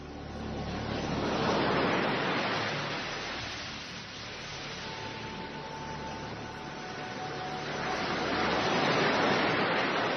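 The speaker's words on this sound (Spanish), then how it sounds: "estas olas que nos pone Carlos Nicolás" Ocean waves used as a sound effect, swelling and receding in broad hissing surges of surf over about ten seconds, with one wave building, fading and a second rising again, no voices present.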